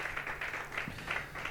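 A church congregation claps hands in praise in steady, even rhythm, the claps soft and somewhat distant in a reverberant hall.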